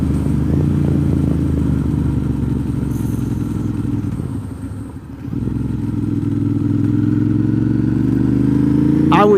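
A motorcycle rides along a road near an Amish farm market in Fairview, Tennessee, its steady engine drone loud and close throughout, dipping briefly midway before resuming, with a voice talking over it.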